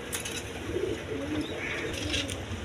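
Pigeons kept as breeding and racing stock coo in low, soft repeated murmurs, with faint chirps layered over a steady background hum throughout.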